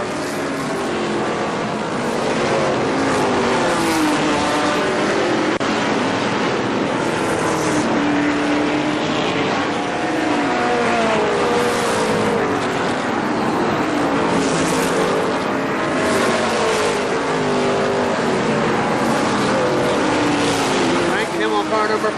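ARCA SuperCars racing at Kil-Kare Speedway in 1998, a loud, continuous roar of engines on the track, with a commentator talking over it throughout.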